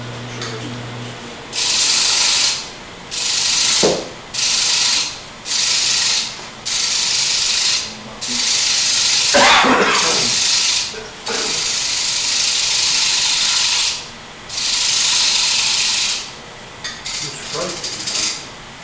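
Short, repeated scraping strokes of a tool across carved wood come close and loud in an uneven rhythm, separated by brief pauses, with a few quiet clicks in between.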